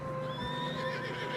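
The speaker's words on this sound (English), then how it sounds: "Horses are struggling." A horse in Red Dead Redemption 2 whinnies with a rising and falling neigh, set against light hoof clip-clop and steady game ambience in fresh snow.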